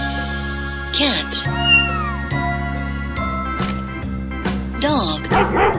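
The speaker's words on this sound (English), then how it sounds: "Cat." A cat meows over a sung children's alphabet song with steady musical accompaniment, the cat cries rising and falling twice amid the singing.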